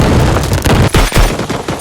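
A rapid barrage of booming, crackling blasts like gunfire and explosions, loud and dense with a few heavier hits, no voices.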